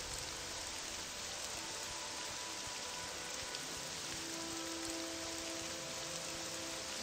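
Steady rain in the video game Morrowind, a continuous even hiss of falling drops on surfaces, moderately loud and unbroken throughout, with no talking.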